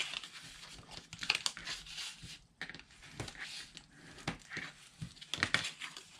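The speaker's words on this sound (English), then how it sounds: "I'm just going to fold this in to make my envelope" Sheets of paper being folded into an envelope crinkle and crease up close, with quiet irregular rustles and a few sharper crisp presses spread throughout.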